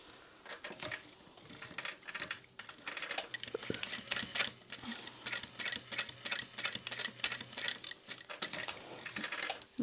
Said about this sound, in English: I'm going to sew this one